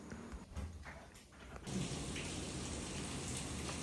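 Steady rain falls on a rainy day at a home in Sri Lanka, a dense, continuous hiss that swells in suddenly and stays even and close.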